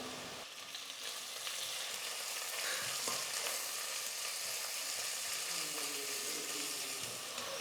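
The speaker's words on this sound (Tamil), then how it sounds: "வெங்காயம் பார்த்தீங்கன்னா இந்த மாதிரி நல்லா ப்ரௌன் கலரில் வர வரைக்கும் நல்லா வதக்கி எடுத்துக்கோங்க" Onions sauté in hot oil for tomato biryani, browning with a steady, loud, close sizzle and crackle that runs unbroken throughout, with faint stirring scrapes.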